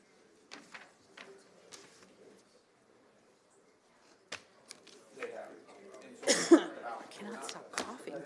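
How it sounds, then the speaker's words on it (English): A few scattered dry coughs and throat sounds in city council chambers, nearby and fairly quiet, with shuffling and rustling noises in between. "I cannot stop coughing today."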